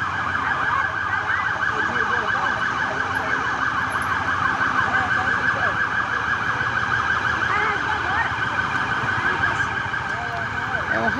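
Fire brigade emergency vehicle siren arriving at a night road accident scene in Itaperuna, wailing steadily and loudly throughout with traffic rumble and faint voices underneath.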